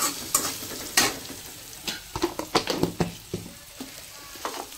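Onion fries in a pan while a spoon stirs it, with close scraping strokes and bursts of sizzling that come in irregular clusters, loud at first and thinning toward the end.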